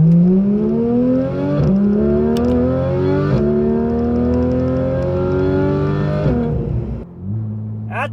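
A Porsche 911 GT3 RS, a 500-horsepower car with a 9,000 rpm redline and a PDK gearbox, revs hard on an ordinary road. The loud, close engine climbs through several quick upshifts and then eases off near the end, with no talk over it.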